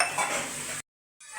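Dishes and utensils clatter and scrape together during washing, with a brief burst of noise, a short silent pause, then more clinking.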